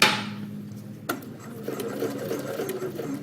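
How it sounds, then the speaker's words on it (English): A sewing machine stitches fabric with a steady, close mechanical whirr and rapid needle chatter after a brief start-up clunk, running continuously without speech. "we're sewing up to where we had stopped, and we're actually going to turn the corner"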